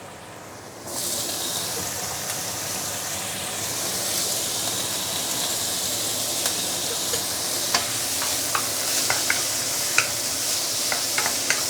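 Bitter melon hits a hot wok with fish head and the sizzle jumps suddenly into a loud, steady hiss, followed by scattered spatula clicks and scrapes as it is stir-fried, close and without talk.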